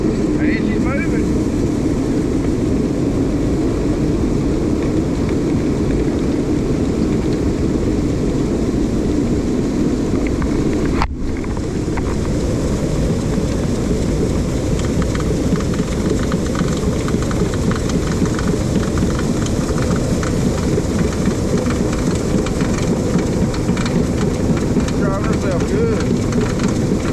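A grain bin sweep running inside a grain bin produces a loud, constant mechanical roar and grinding drone that persists throughout, with a brief dip partway through.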